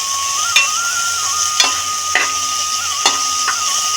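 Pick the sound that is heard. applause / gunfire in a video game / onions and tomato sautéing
onions and tomato sautéing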